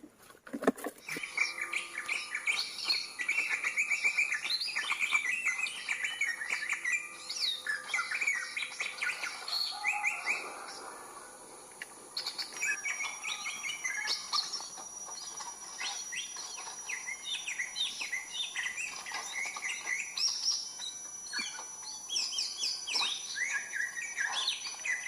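Wild Kalimantan green leafbird calls, a dense run of bright chirps, whistles and trills repeating steadily for the whole stretch, with insect buzz in the background and no voices.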